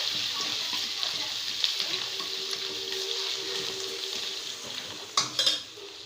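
A spoon stirs coriander leaves and roasted peanuts through tomato rice in a hot pan, a steady sizzle with soft scraping strokes and a few louder clinks near the end.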